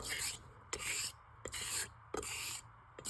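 Straight razor honed on a sharpening stone to cut a fresh bevel, four quick rhythmic strokes, each a close, bright rasping swipe separated by short clicks as the blade turns.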